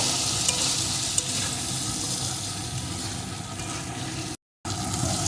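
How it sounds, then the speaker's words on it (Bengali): Small fish and gathi kochu cooking with chilli powder, turmeric and salt in a pan, a dense, steady sizzle throughout with one brief cut to silence near the end. "এখন এটাকে বেশ কিছুক্ষণ ধরে কষিয়ে নেব"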